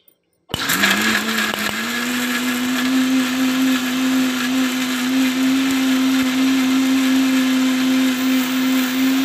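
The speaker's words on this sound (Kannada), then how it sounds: "ಫೈನ್ ಪೇಸ್ಟ್ ಆಗೋವರೆಗೂ ರುಬ್ಬೇಕು" A mixer grinder starts abruptly and runs loud and steady, its motor whine holding one pitch while grinding red chutney with salt and water into a fine paste.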